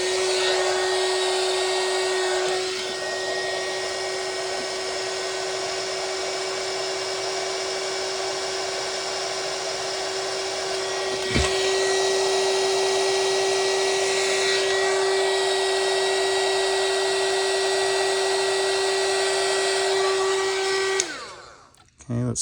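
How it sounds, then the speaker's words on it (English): A heat gun shrinking heat-shrink tubing while building a small radio accessory, a loud, steady whining blower with a constant tone running for about twenty seconds before cutting off abruptly. "in my case I'm going to use a heat gun and shrink that tubing."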